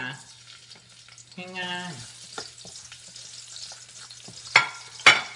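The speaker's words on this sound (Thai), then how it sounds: "ต่อไปนะคะก็ผัดผักค่ะผัดผักรวมนะ" Mixed vegetables are stir-fried in a pan, a soft sizzle beneath a woman's brief speech, followed by two sharp clatters of utensil against pan near the end.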